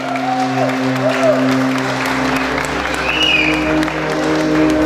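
Wedding guests greet the newlyweds at a celebration with loud clapping over sustained music, the applause blending into a busy, festive backdrop with strong tonal accompaniment throughout.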